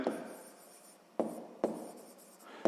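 Pen strokes of a handwritten equation in a school maths exercise, with a soft continuous scratch broken by four sharp taps, close and alone.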